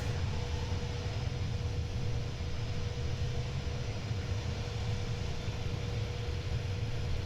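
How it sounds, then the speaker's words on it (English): Exhaust blast from the jet engines of a Wardair Airbus A310, simulated in Microsoft Flight Simulator 2020, heard as a continuous, even roar with deep rumble and a faint steady whine, constant in level throughout. "Jet blasting back."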